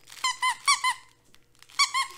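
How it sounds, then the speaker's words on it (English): Squeaky frog-shaped dog toy sounding in a few bright, rubbery squeaks: a short pair, a longer squeal, a pause, then two more bursts, close and clear. "Even the froggy makes noise."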